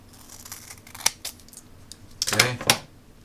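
Scissors snip through an LED COB light module strip, a few sharp close cuts with a short crunch near the end, alone without talk.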